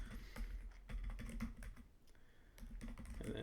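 Keys clatter on a computer keyboard as Python code is typed, quick irregular bursts of clicks with a short pause midway, close but quiet, with no one speaking.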